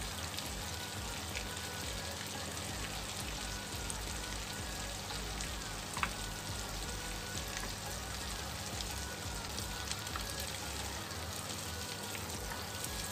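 Hot butter boils and sizzles while being prepared for baklava, giving a continuous soft crackling hiss that stays steady and fairly quiet, with no voices.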